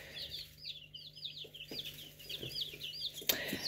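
A brood of small chicks peeping, rapid high cheeps repeating steadily over a low hum, with a few soft knocks and rustles nearby.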